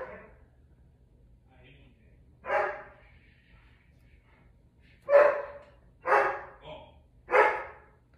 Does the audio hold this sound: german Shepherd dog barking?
yes